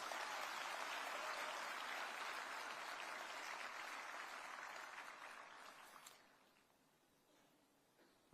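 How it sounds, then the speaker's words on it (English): An audience at an AI summit gives loud, sustained applause, a thick wash of clapping that holds steady before fading out to near quiet over the last couple of seconds. "Give a big round of applause for the entire team which has worked for it."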